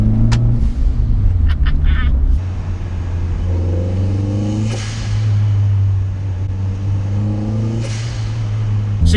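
Turbocharged Renault Clio 172 engine pulling hard through gears, a loud close drone that drops in pitch at a shift and climbs again, with occasional short vocal exclamations over it.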